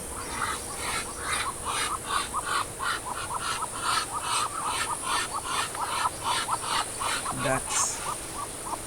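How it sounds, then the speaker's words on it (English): Ducks quack in a steady, rapid run of harsh calls by a garden pond in late June, fairly close and continuous, with faint background noise throughout. "Ducks."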